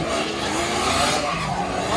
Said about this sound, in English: Give her a nice burnout